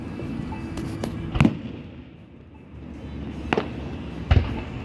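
Fourth of July fireworks explode in three sharp booms, separated by a few seconds, over a steady background of crackling and distant pops.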